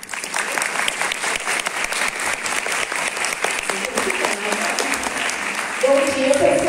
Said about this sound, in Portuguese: vamos chamar, com muitas palmas calorosas, Valdina Piano.